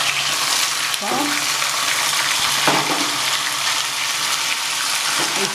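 Spices for tempering crackle and sizzle in hot oil as taro stem greens go in for a kochu data shak, a loud, steady frying hiss close up with a brief stir and no talking.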